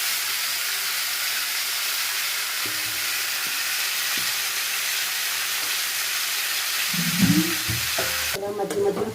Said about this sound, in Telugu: చికెన్ అయితే బాగా ఫ్రై చేసుకోవాలి.